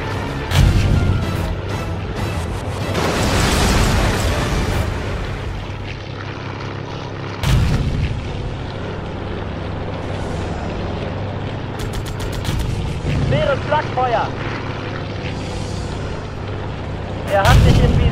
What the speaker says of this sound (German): Torpedo ist zu früh explodiert.